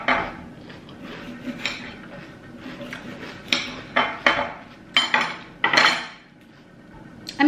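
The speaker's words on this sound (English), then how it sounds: "then I cut another slice" A knife slicing through cucumber on a hard surface, a series of crisp close taps and clacks spaced irregularly, some sharper and louder toward the end, with no talking.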